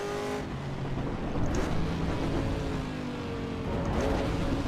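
A Chevrolet Camaro engine in the racing game Assetto Corsa EVO, heard as a steady, loud engine drone with rising and falling rev tones and gear changes, no voices.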